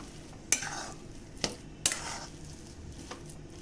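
Chili pakora stuffing is sautéed in a pan, and a quiet sizzle runs under a few sharp clinks and scrapes from the spatula.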